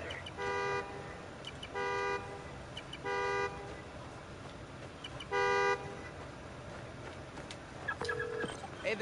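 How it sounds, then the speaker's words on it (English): In the Spider-Man: Miles Morales game, a key fob sets off a car horn that sounds four times at roughly even intervals, the last honk a bit louder and closer, over steady city background noise. "Now I can use the fob to find the car. Find the horn, find the car."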